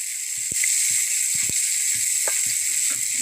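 Small dried fish with salt and turmeric frying in hot oil, a steady bright sizzle with scattered pops and stirring clicks, close and alone.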